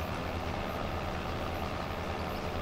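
A big blue tractor engine in Farming Simulator 25, a steady low diesel rumble running evenly throughout, moderately loud and with no voices.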